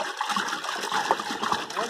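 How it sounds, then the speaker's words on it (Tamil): Water splashes and trickles steadily into a cooking pot for mutton biryani, a continuous wet pouring sound close by with faint background noise. "பாருங்க தண்ணி ஊற்றுறாங்க சாப்பாட்டுக்கு."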